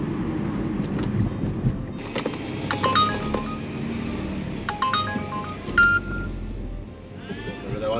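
An Uber Eats new-order alert sounds from a phone inside a car on a New Year's Eve delivery shift in Lille: bright chiming tones in two short bursts over steady road rumble, with someone talking nearby.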